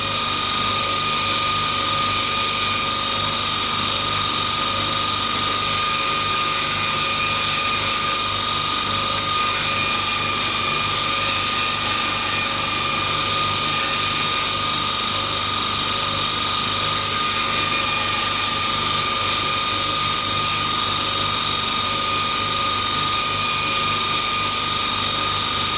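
A tool is run gently along a Kydex sheath edge to smooth out old scratches, giving a steady, even mechanical buzz with high-pitched whine, continuous and unbroken, no voices.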